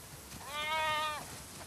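A single sheep bleat from The Last of Us Part II, a wavering, harmonic cry lasting under a second, heard fairly close over quiet ambient game background.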